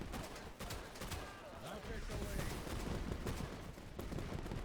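Rifle fire from an M1 in the World War II shooter Easy Red 2 during a Cassino campaign battle, with dense overlapping shots and crackling gunfire echoing amid continuous battlefield noise.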